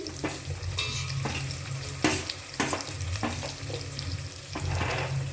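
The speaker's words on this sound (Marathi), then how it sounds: "तर हे आपल्याला गोल्डन ब्राऊन व्हाईपर्यंत फ्राय करायचं आहे" Garlic and onion frying in oil in a pan until golden brown, a steady close sizzle broken by several sharp stirring scrapes of a spoon, with no talking.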